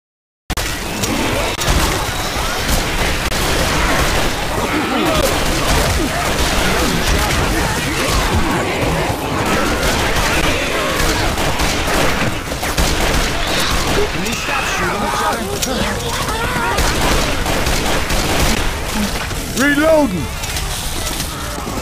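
Left 4 Dead 2 gunfire in a dense, continuous chaotic battle mix, crashes and bursts steady throughout, with several players shouting and talking over it.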